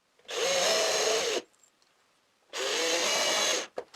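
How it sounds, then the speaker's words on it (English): A cordless power drill drives screws into a homemade router table board in two steady whirring runs of about a second each, close by, with a brief clack after each one. "On each line, I drive 3 screws."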